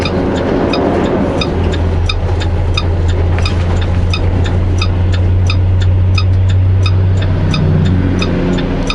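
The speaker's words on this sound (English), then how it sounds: "There goes a logging truck." A logging truck passes on a highway near Trail, British Columbia, its loud, steady engine drone and road roar filling the whole stretch without letting up, heard close from inside a moving vehicle.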